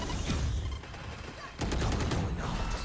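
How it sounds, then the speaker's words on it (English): Guardian rifle fire cracks through smokes in a Valorant pro match, a dense burst of gunfire clustered mid-clip over a busy, loud game mix. "the Guardian's obviously just being fired through the smokes right now"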